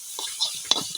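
Sliced banana stem being stirred as it fries in oil for a Bengali village-style stir-fry: a steady low sizzle with a soft scrape and a sharp clink of the utensil against the pan, close and brief.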